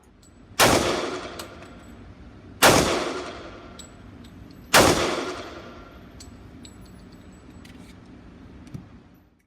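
Three loud, sharp gunshots from a Dan Wesson Guardian .45 ACP 1911 Commander pistol at a shooting range, evenly spaced about two seconds apart, each with a ringing decay, followed by faint metallic clicks.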